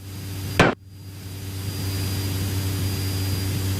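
Steady drone of a light aircraft engine in flight, a constant low hum with a brief loud burst near the start, then an even, continuous tone with no voices.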